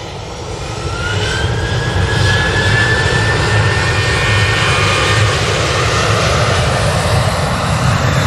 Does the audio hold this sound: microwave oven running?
no